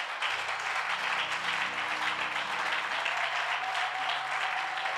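A church congregation applauding, a steady wash of many hands clapping together while a sustained organ-like tone plays underneath.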